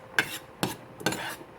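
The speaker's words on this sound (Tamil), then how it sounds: "இந்த சாஸையும் நல்லா இப்படி கலந்து விட்டுக்கோங்க." Spaghetti sauce being stirred with a utensil, likely in a pot or bowl, during preparation of chicken parmesan: three short scraping, clattering strokes spaced about half a second apart, close and fairly quiet, with no talking.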